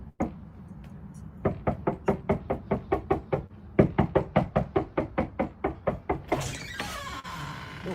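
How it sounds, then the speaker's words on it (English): A fist beats on a door in a reality TV scene: two long runs of rapid, loud, evenly spaced knocks with a short pause between them, then a rustling clatter as the knocking stops. "Why are you beating on my door?"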